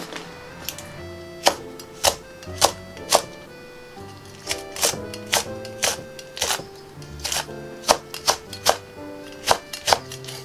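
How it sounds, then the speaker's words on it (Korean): A knife chops a green onion into large diagonal pieces on a cutting board, giving a series of sharp, close thunks in uneven bursts with short pauses between them, and no talking. "파 한 대도 큼직큼직하게 어슷어슷 잘라주세요."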